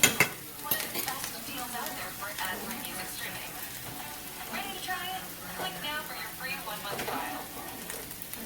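Cooked vegetables are scraped and lifted out of a sizzling pan, with repeated utensil scrapes and clinks over steady frying crackle, close by.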